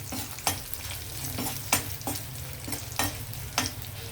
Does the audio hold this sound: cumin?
yes